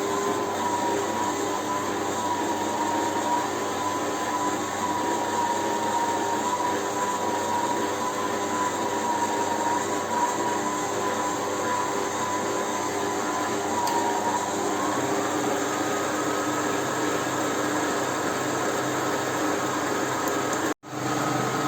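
An electric mixer whips génoise batter for a chocolate sponge cake, a steady loud motor whine that holds one pitch for a long stretch and then rises slightly as the speed increases, cutting off abruptly near the end.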